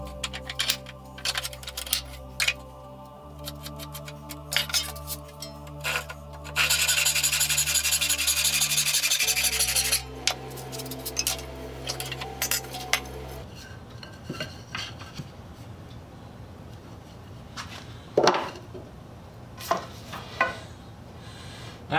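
A fine-bladed number 12 hand saw cutting a kerf in wood for a saw till, heard as close, irregular rasping strokes with a loud, sustained burst of sawing in the middle, then sparse scrapes and knocks.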